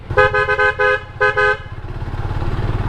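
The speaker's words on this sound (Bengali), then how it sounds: "হর্ন তো সেই লাগাইছে" A Suzuki Gixxer motorcycle's horn sounds in two bursts of quick toots, loud and close, followed by the engine's steady putter as the bike rides on.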